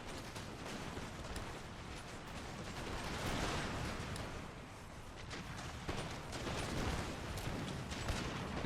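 Musket volley fire in the video game Empire Total War, a dense sustained crackle of many distant shots blending into a rolling rattling roar, fairly faint.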